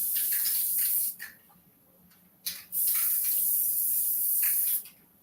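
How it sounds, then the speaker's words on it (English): A can of 505 spray adhesive bursts out in loud hissing blasts: a long spray, a brief gap, then two more sustained hisses, each cutting off sharply, close and dominant. "The doggone 505 spray exploded on me, girl."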